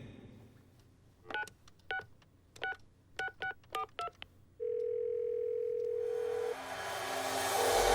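A telephone number is dialed: a quick series of about eight distinct touch-tone beeps in irregular groups, then a steady tone for about two seconds before rising noise takes over, fairly quiet overall and free of speech.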